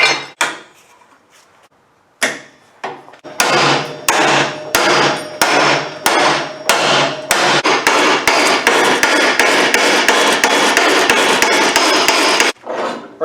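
Hammer strikes bend cut steel control arm bracket pieces, starting with a few scattered blows after near silence, then settling into a steady, loud series of ringing metallic hits at close range.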